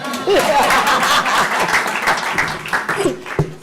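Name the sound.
audience clapping at awards ceremony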